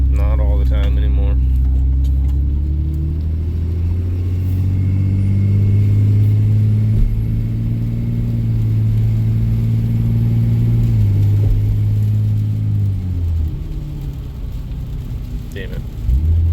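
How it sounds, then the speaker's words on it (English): A truck engine with a faulty exhaust brake rumbles loudly and steadily nearby, its drone shifting in pitch as it works, while a voice talks over it. "exhaust brake is making noise sometimes."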